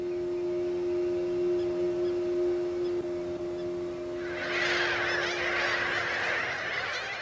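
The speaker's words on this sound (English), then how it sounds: "Mediterranean gulls brood in their thousands." Mediterranean gulls calling in a bird-rich lagoon just beyond Venice, a mass of overlapping bright, nasal cries swelling from a steady low drone into a dense, loud chorus over the final seconds.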